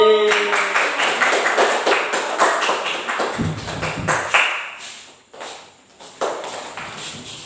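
Applause from a classroom audience after an Islamic lesson on patience and contentment, a dense patter of many hands clapping close by with a few louder claps standing out, fading out and then briefly picking up again.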